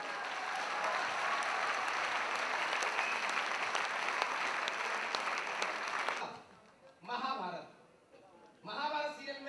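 Audience applause at a Hindi comedy and poetry show, a dense, fairly soft wash of clapping that runs steadily for about six seconds, then stops abruptly and gives way to someone speaking.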